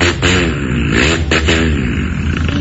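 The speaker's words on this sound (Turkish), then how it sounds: "Bakın ne kadar güzel çalışıyor Cenk Bey traktör." A tractor engine runs steadily and loud close by, a continuous low mechanical drone with rattling texture and no clear pauses.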